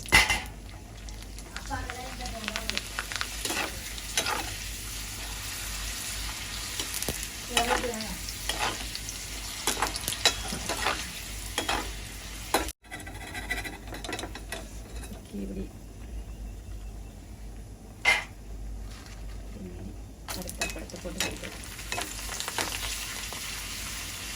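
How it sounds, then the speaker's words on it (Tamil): Oil sizzles steadily while papadums fry, with occasional stirring scrapes and utensil clinks against the pan, close by. "இதே மாதிரி எல்லா அப்பளத்தையும் பொறிச்சிருப்பேன்"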